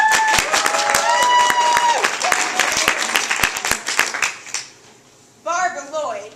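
Studio audience applause at a murder-mystery game show, a burst of clapping with some cheering that fades out partway, while someone speaks over it and then alone at the end.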